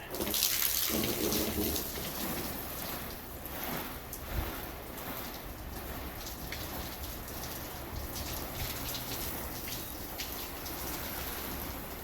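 Water sprayed onto Nikwax-treated vintage camper trailer canvas patters and runs off in a steady close hiss of droplets, louder at first and then continuing evenly.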